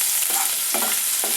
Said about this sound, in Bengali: পেঁয়াজটা অল্প ভাজা ভাজা হয়ে গেলে